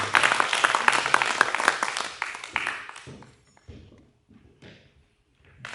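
Audience applause at a small function celebrating a song's success, a dense burst of clapping that fades after about three seconds into scattered claps and quiet room noise.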